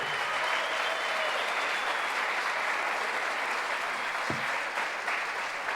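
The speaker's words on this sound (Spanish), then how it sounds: "Se merece un fuerte aplauso los sacerdotes, ¿sí o no?" An audience at a national Catholic Charismatic Renewal retreat in Argentina applauds the priests, producing loud, dense, steady clapping that carries alone for several seconds.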